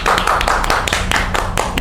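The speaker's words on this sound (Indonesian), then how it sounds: "Tepuk tangan dulu." Students clap at a campus gathering for Beverly, a third-semester civil engineering student, with a burst of quick, close hand claps and sharp taps running throughout.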